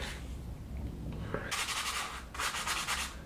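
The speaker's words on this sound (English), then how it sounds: "and sanding till it suits." Rhythmic scratchy strokes of 400-grit sandpaper rub back and forth close by on a tractor engine rebuild part, in two bursts of brisk sanding after a quieter start.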